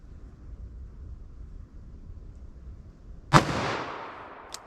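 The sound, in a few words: revolver gunshot, 10mm or .44 Magnum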